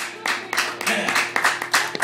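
Applause and clapping from a crowd at a live music gig, steady and fairly loud, with scattered sharper claps and some voices mixed in.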